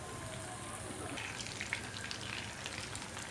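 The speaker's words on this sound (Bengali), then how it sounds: "এখন চুলার আঁচ একদম লো করে আমি এটা 2 মিনিট করে ভেজে নিব।" Phaha fish fry in a pan over low heat, giving a faint, steady, even sizzle and soft crackle throughout, with no talking.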